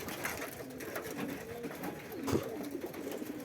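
Soft, repeated coos of village pigeons kept on a rooftop murmur through the clip over a faint background hum, with one slightly louder call near the end.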